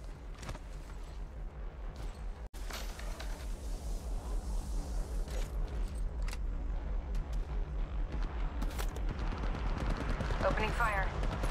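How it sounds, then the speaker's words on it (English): Rapid automatic gunfire in the mobile shooter Apex Legends Mobile, a sustained loud stream of evenly spaced shots after a brief quieter lead-in, with a few sharp effects near the end. "Opening fire."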